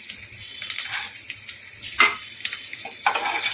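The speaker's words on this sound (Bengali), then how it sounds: "একটুখানি ভাজা ভাজা করে নেব আর এর মধ্যে বাদামটাও আমি দিয়ে দিচ্ছি" Chilies and peanuts sizzle in a hot pan with bursts of crackling and scraping as they are stirred, close and fairly quiet.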